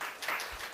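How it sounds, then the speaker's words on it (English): A brief burst of audience clapping at a talk during CL Expo 2025, a short, close patter of many hands that swells slightly midway and then settles. "Clapping?"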